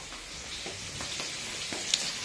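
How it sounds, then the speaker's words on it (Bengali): Potatoes and cauliflower frying in a pan, a continuous close sizzle with light stirring scrapes and occasional soft clinks. "রান্নাঘরে দেখো আলু আর ফুলকপিটা কষাচ্ছি"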